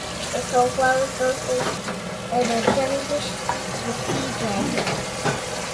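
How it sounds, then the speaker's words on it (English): Water splashes and sloshes in a kitchen sink as a child plays in a bowl of water during dishwashing, with clinks of dishes and people talking throughout. "This is how Brendan helps me wash the dishes."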